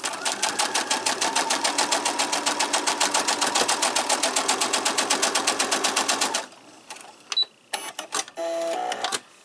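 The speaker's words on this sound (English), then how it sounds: "you're going to sew along the line, giving a 1/4 inch seam along each line" A sewing machine runs a quarter-inch seam across a quilt block, a rapid and steady mechanical stitching rhythm heard up close. It stops after about six seconds and gives way to a few short clicks and brief bursts of stitching.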